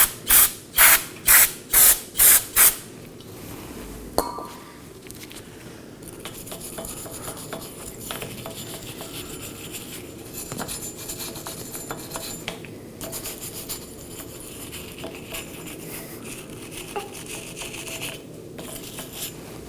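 A wire brush scrubs a wheel hub on a 2018-2024 Chevrolet Equinox, opening with about six rapid sharp spray bursts of brake cleaner, then continuous close, gritty metal scraping and rubbing.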